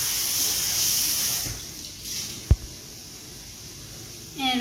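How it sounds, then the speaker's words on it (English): Tap water runs steadily into a sink while food is rinsed under it, with a single sharp knock partway through and the flow swelling again at the end. "then you could just rinse it with water"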